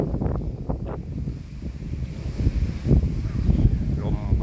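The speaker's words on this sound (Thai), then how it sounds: "ลมค่อนข้างจะแรงครับ" Strong, gusty wind in an open outdoor spot with trees buffets the microphone in rumbling surges that swell louder toward the end, while someone speaks over it.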